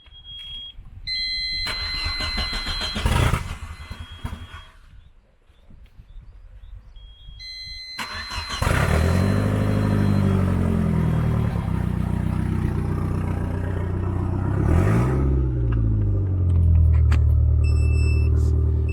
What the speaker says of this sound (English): After the second one, the car starts